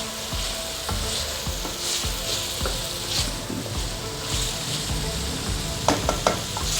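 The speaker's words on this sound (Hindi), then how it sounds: "अब इसके अंदर आलू फ्राई हो रहे हैं।" Potatoes sizzle and fry in a pan with cooked chicken mince, a steady close hiss broken by repeated scraping stirs and a few clinks near the end.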